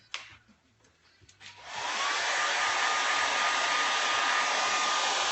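A hair dryer switches on after a quiet moment with faint handling sounds, then blows a loud, steady, close-up rushing whoosh that holds without a break until the end.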